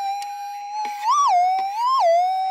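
A gold-prospecting metal detector sweeps over a faint buried gold target, its steady mid-pitched threshold hum bending upward into two brief rising warbles as the coil passes, close and clear with no talking.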